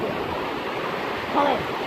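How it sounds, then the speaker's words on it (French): Ocean waves rolling in at a surf beach, a steady broad wash of surf with a slight swell near the end, heard close through a phone microphone with faint wind. "Oh putain, le nombre de vagues là par contre."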